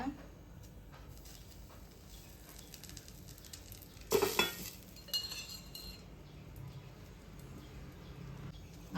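A lid is set onto an appam pan with a sharp metallic clank and a brief rattle, then a quieter clink, over a soft background sizzle.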